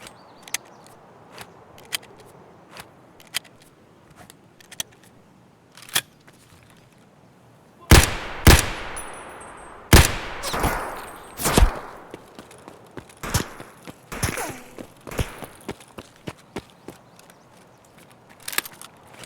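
Gunfire in the video game Escape From Tarkov: scattered sharp distant cracks, then a cluster of loud close shotgun blasts spaced about a second apart, followed by further sporadic shots and clatter.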